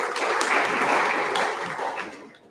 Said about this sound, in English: Let's do a big round of applause for Team C.